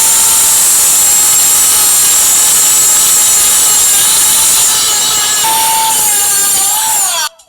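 A foil-made aluminum ball is polished with a constant loud whirring, grinding buzz that holds steady for several seconds before abruptly cutting out.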